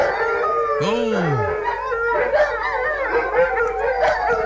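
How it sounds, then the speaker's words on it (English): A husky howls close by, one long wavering note that rises and falls, followed by yips and whining calls, with a person briefly exclaiming. "how hard can a husky howl?"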